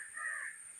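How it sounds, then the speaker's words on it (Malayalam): A crow gives a single short, harsh caw, fairly close and clear, that fades quickly into quiet. "കാക്ക വിളിച്ചു കാക്ക."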